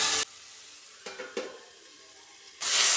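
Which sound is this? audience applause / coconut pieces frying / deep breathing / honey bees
coconut pieces frying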